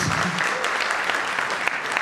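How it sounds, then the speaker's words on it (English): Applause from a forum audience at a university economic forum on sports business, a steady dense patter of clapping held at even loudness for a couple of seconds. "Applause."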